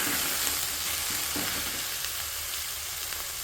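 Vallarai keerai leaves sauté in a hot pan, a steady close hiss of sizzling with soft scraping stirs now and then and no voices.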